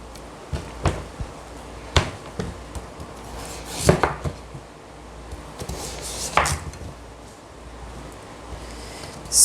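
A knife cuts through a green papaya, giving a few sharp, scattered chops and thunks against a board, fairly close and with quiet gaps between strikes.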